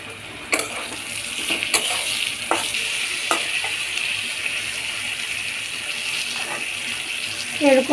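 Spice paste with ground ginger and a splash of water frying in a pan, a steady close sizzle with sharp spatula scrapes and clinks as it is stirred, without talk.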